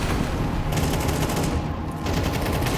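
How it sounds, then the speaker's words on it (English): Rapid rifle fire sprayed in a professional Counter-Strike match on the Mirage map, a dense, unbroken barrage of loud shots that runs almost the whole moment with a brief dip near the end. "These are great spams and pre-fires from Snax, just unlocking A."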